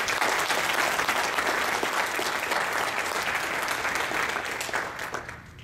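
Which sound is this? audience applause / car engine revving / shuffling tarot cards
audience applause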